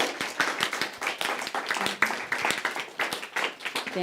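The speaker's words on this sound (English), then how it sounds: "Yes, you can applaud" Audience clapping after a band's sea-themed song at a church service, fairly close and moderately loud with uneven individual claps, steady for several seconds.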